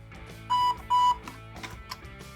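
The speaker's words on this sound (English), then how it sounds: "we get a beep of confirmation from the ESC that we are now powered up" Two short, clear electronic beeps in quick succession from a budget RC 4x4 Toyota Land Cruiser LC79 truck's ESC on power-up, close and bright, followed by faint mechanical clicks and low background hum.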